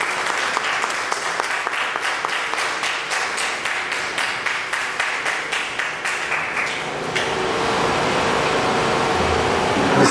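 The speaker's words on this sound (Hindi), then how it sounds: "जोर से तालियां बजा सकते हैं।" A church congregation applauding loudly during a sermon gathering, starting as rhythmic unison clapping in a steady beat, then breaking into a broad, continuous wash of applause and cheering.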